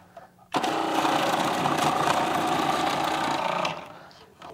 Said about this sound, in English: we're gonna grate some Parmesan cheese